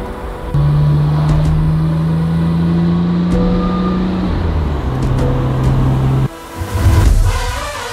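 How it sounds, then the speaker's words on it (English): A Midnight Purple II Nissan R34 GTR show car arrives at a motorsports shop, its engine holding a loud, steady drone that shifts pitch partway through, then dips and surges again near the end. "we're getting in a Midnight Purple 2 R34 show and display car coming in for a little bit of rehab and refresh"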